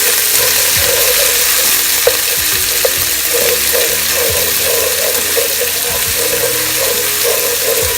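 Garlic and spices fry and hiss in a pan for a chicken karahi with fenugreek, with steady close sizzling and occasional scrapes and clicks of stirring and no talking.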